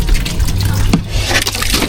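Water poured during household chores, a continuous splashing, gurgling stream close by with a brief sharp knock near the middle, no talking over it.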